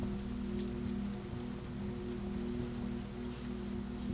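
Steady rain patters on a roof, a soft continuous hiss with scattered drops, quiet and unbroken.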